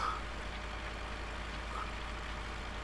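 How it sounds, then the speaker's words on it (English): An old tractor's engine runs in a farming video game, a steady low idling drone with no change in pace, heard alone. "And that's what you call a real tractor."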